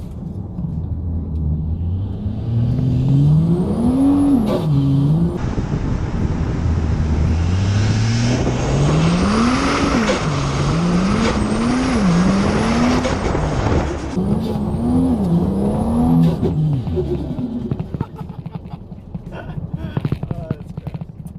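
Ford XR6 Turbo engine revving hard through a line-locker burnout, loud and close, with rising and falling rev sweeps, tyre squeal and a steady roar lasting about twenty seconds before easing off.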